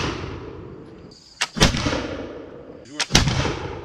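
Two loud, close musket shots fired with original-style black powder charges at target practice, each a sharp crack preceded by a brief ignition pop and followed by a rolling echo.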